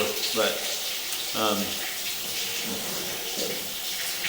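Water is run into a sewer drain pipe, a steady tap-like pour and splash under a man's brief speech.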